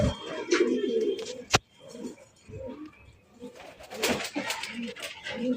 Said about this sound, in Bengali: রেড চেকার রেসার কবুতর